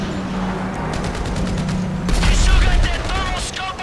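Rapid automatic gunfire from shooters in the game GTA V, loud and sustained, swelling into a heavier burst partway through with clattering impacts mixed in.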